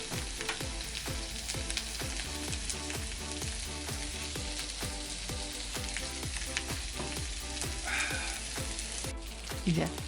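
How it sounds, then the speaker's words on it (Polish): Steady sizzling and crackling of cabbage frying in a pan, with repeated soft scraping strokes of stirring, close up and with no talking. "Kapustka się smaży"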